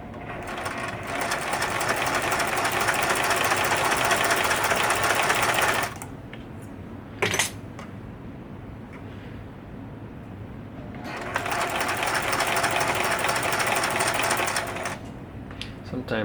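A sewing machine stitches a DIY fabric mask in two long, fast, rattling runs separated by a quiet pause with a brief clunk, heard close and loud.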